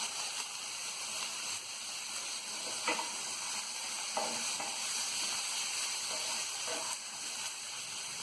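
Chopped tomato hitting hot oil with frying potatoes and pointed gourd, a steady close sizzle and hiss with a few soft stirring clicks throughout, no talking.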